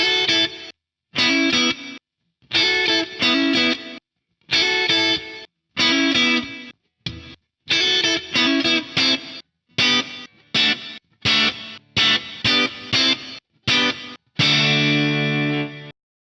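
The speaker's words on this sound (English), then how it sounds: "that's how you would create a gated reverb" Guitar chords chopped off abruptly by an 80s-style gated reverb from an Axe-Fx III, each burst ending in sudden silence, in an irregular rhythm with a longer final ringing chord.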